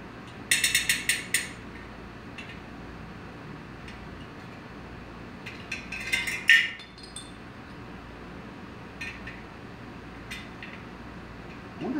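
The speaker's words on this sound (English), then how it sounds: "This one, probably just these couple spokes right up in here need to get tightened." Metal spokes on a BMX wheel being tightened during truing, giving a few sharp clinking, ratcheting taps in short bursts against a quiet room, with small scattered clicks between them.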